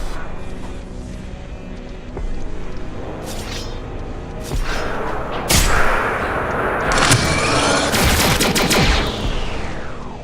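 Rapid bursts of automatic gunfire and booming shots from a weapon in a fast-paced video game, loud and dense, building in intensity toward the end with repeated volleys over a busy background.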